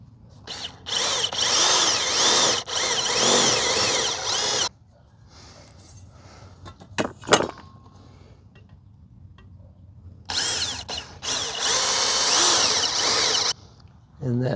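A power drill bores a 1/4 inch hole for mounting a radiator fan, two loud sustained bursts of whirring separated by a quieter gap with brief clatter and handling noise.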